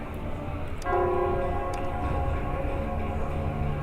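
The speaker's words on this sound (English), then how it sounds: "it's the Nell Squares bell" A large bell tolls in the Nell Square of the video game Wuthering Waves, a resonant ringing strike that sustains and slowly decays over steady ambient background noise.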